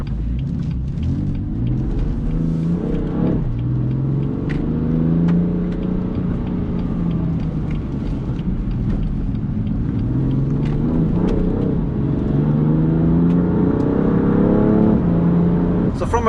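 BMW F80 M3 Competition engine droning and rising in pitch as it accelerates through the gears, a loud, continuous low rumble heard from inside the car, with someone talking over it.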